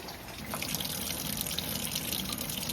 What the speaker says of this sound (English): turn the pump on